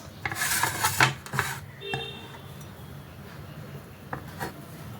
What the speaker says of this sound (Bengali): এই রুটিগুলো আমি কেটে নেব এইভাবে মাঝখান থেকে আলাদা করে দুটো ভাগ করে নেব